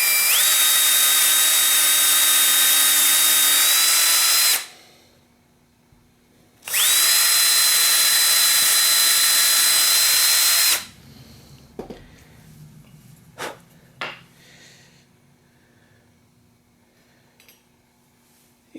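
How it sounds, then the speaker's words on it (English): A power drill whines at high speed drilling pilot holes in wood in two long runs with a short pause between, followed by scattered clicks and light handling noises. "Drill some little pilot holes."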